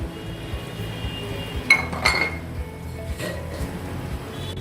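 A metal lid set down on a pot of gulab jamun sweets on a low stove, giving a couple of close clinks and clatters over a steady background hum.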